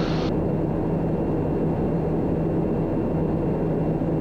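A TBM 960 turboprop descends in flight, its engine and airflow a loud, unbroken drone heard from inside the cabin.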